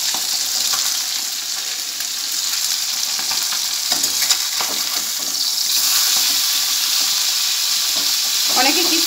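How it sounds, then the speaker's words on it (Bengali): Fish frying in a kadai, with a loud, steady hiss and crackle of hot oil throughout and occasional stirring and scraping noises. "আর এখানে মাছটা ভাজা হচ্ছে"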